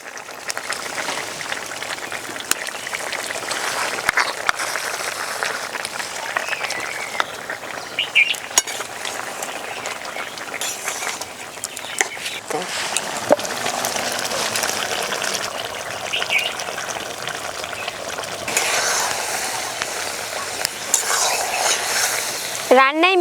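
Fried prawns and mustard paste stirred in a pan with beans, a dense continuous sizzle with frequent spatula scrapes and light clinks, near and steady throughout, louder bursts toward the end, no speech.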